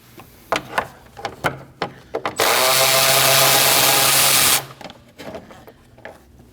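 Power tool running a 10mm socket to remove a bolt during radiator replacement on a 2011-2016 Kia Optima 2.4L L4: one loud, steady whir lasting about two seconds, set between scattered clanks and taps of handling.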